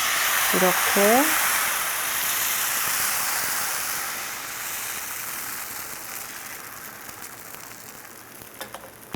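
Bánh xèo batter poured into a small frying pan over medium-low heat, a steady soft sizzle hissing throughout, with a brief spoken word near the start and a few small clinks toward the end.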